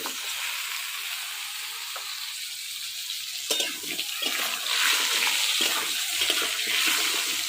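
Potatoes and eggplant fry in hilsa fish oil with black cumin, a close, continuous hiss that swells into louder crackling sizzle with scattered stirring knocks midway.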